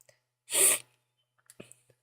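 A single loud sneeze, followed by a few quiet breaths and sniffs.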